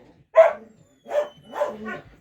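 Estonian hound puppies in a kennel give four short, high yips at close range, spaced unevenly over about two seconds with quiet gaps between.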